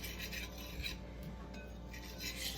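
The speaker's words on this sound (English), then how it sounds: "I use my little whisk." A small kitchen whisk scrapes and rasps softly and continuously against a bowl while mixing seasoning for Salisbury steak, quiet and close.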